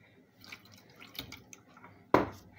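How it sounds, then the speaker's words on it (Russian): A G-Shock watch, a waterproof and shockproof model, is dipped into water: one short, fairly loud splash near the end after quiet handling noises. "Давайте в воду их немножечко."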